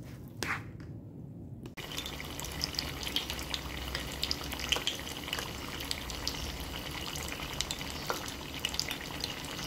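Lumpia shanghai filling being stirred as it fries in olive oil in a small pot, a steady close sizzle with scraping and dripping crackles throughout.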